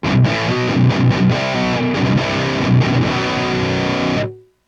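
Loud overdriven rock guitar riff through an Orange rock reverb pedal with a reverberant tail, chords ringing steadily and fading out at the end.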